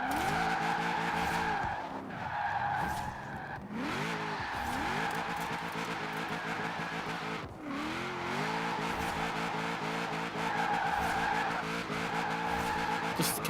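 A Nissan 240SX SE drifts and swerves in Forza, its engine revving up and down while the tires squeal in long, repeated skids, loud and close with short dips between slides.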